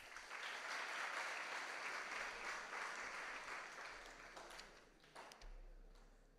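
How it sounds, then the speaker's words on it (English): Audience at an entrepreneurs' day talk clapping their hands, a loud burst of applause that gradually thins and fades, ending with a few scattered claps. "Clap hands for yourself."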